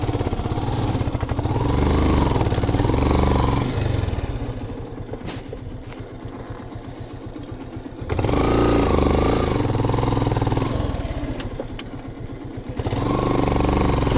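A motorcycle engine strains along a hilly village road, a loud, steady drone that surges, eases off and climbs again, with rattling clatter and no talk.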